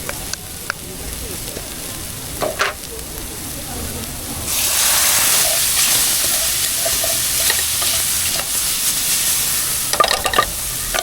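Tomato paste cooking in a pan, a steady close sizzle and frying hiss that swells louder about halfway through, with a few scraping stirs and occasional talk over it.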